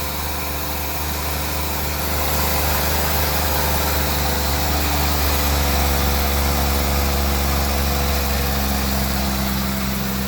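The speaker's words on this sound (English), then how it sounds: "Seems to run and idle better than it ever did." A Ford Econoline van engine, newly repaired after a crank/no-start fault, runs and idles steadily with a loud, continuous, even drone for about ten seconds, with no talking over it.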